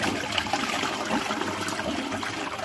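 Water rushes and gurgles steadily from a toilet bowl being flushed while being unclogged, a moderate continuous wash and trickle with no voices.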